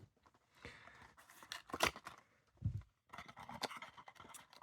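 Taped parcel boxes holding die-cast model cars are cut open, producing quiet close snips, scraping and tearing of tape and cardboard in short irregular bursts with a couple of sharper rips.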